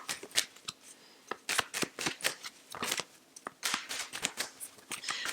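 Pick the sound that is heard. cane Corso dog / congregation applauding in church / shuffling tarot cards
shuffling tarot cards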